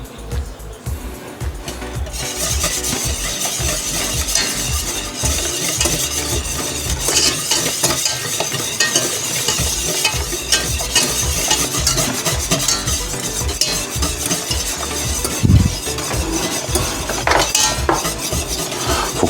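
Mojito tartlet mixture cooking in a pan and being stirred, giving a continuous soft sizzle with scraping and clinking stir strokes throughout, steady and close with no talking.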